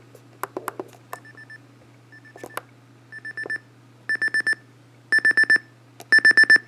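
Sangean CL-100 clock radio alarm buzzer sounding alone: sharp electronic beeps that repeat in groups, growing louder and longer with each round, ending in steady bursts of four loud beeps.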